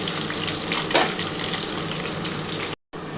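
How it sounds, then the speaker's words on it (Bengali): Potatoes and pointed gourd added together to hot oil left over from frying fish, sizzling loudly and steadily at close range, with a brief louder crackle near the start before a short drop-out. "এবার এই তেলের মধ্যে আমি আলু আর পটলটা একসাথে দিয়ে দিচ্ছি"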